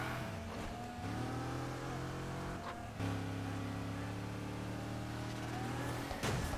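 A Dodge Charger R/T engine in a video game revs hard and steadily, with a brief dip near three seconds and a sharp blip at the end, loud and close with no talking.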